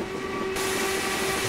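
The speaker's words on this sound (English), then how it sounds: "There we go, blow the whistle indeed." An LMS Black 5 steam locomotive whistle in Train Simulator 2016 on the Sheerness Branch Line, a steady loud tone that starts partway in and holds over a continuous rumble of the moving train.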